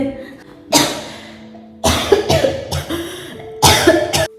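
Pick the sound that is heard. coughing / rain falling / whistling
coughing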